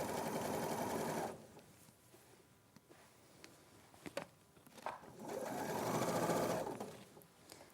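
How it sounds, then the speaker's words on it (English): A domestic sewing machine stitches two underneath fabric layers in short bursts, a fast mechanical whirr near the start, a pause with light handling clicks, then a longer run near the end. "So I'm just sewing the 2 underneath layers together."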